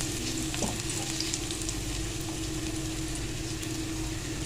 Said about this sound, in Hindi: इसमें डालेंगे हम क्रश किया हुआ लहसुन।